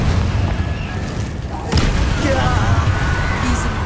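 A Confringo fire spell blast in Hogwarts Legacy lands as a sharp boom partway through, followed by crackling burst debris over a steady loud combat backdrop with voices in the mix.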